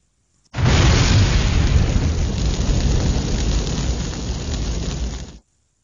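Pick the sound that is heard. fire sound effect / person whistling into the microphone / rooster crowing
fire sound effect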